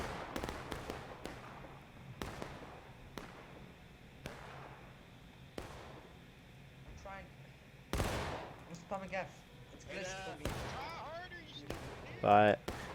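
Musket volleys from Union troops in a Civil War video game, a sequence of sharp cracks, some single and some in ragged clusters, with distant popping between them and a voice commenting over the firing.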